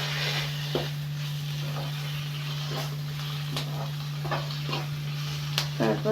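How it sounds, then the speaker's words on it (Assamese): Ginger-garlic paste sizzles steadily in a hot pan while an Assamese-style chicken curry is cooked, with a few scraping stirs and a constant low electrical hum underneath. "আদা আৰু ৰচুনৰ পেষ্টটো ঢালি দিম।"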